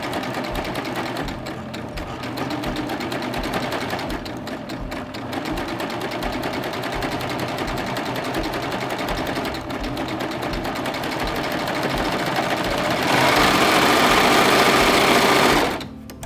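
An air-threading serger runs continuously, sewing ribbing onto knit fabric at a shirt neckline. The steady mechanical whir holds for about sixteen seconds and grows louder near the end before stopping.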